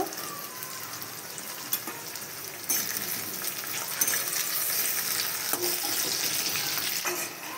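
Onions and chopped tomatoes fry in a pan in a continuous, moderately loud crackling sizzle, with occasional sharper scrapes and knocks from stirring and no voices.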